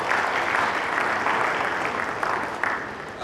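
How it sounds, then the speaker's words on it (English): Conference audience at an annual engineering conference in Ilorin applauding together, a dense, steady clatter of many hands that carries on for a few seconds without voices. "please give ourselves a round of applause"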